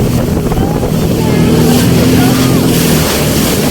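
A motorboat engine drones steadily and loudly up close on the Punnamada backwaters in Alappuzha, with wind rushing past the microphone.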